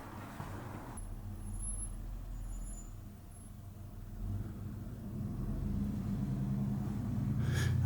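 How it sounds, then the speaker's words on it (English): Road traffic passing outside an abandoned funeral home, a steady low rumble of cars that swells gradually louder toward the end, heard from indoors with no talking. "I'm sure you can hear those cars out there."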